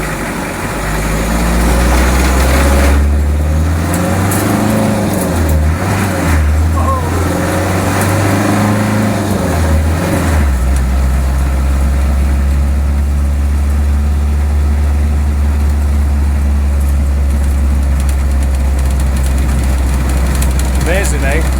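A 2.5 litre naturally aspirated diesel car engine on a short road test, loud and steady, with a low rumble that shifts pitch as it revs up and settles, sustained throughout and running under occasional talk.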